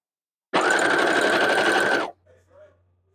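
A serger runs steadily along the edge of fabric while stitching reusable paper towels, a loud continuous whirring burst of about a second and a half that then stops, followed by faint brief sounds.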